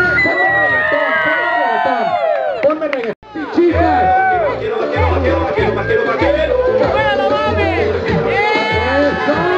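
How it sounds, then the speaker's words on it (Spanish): A crowd cheers, whoops and shouts at a bikini contest during a Motomania motorcycle event in San Blas. The noise is loud and continuous, and a host's voice talks over the hubbub. "Aplausos, por favor."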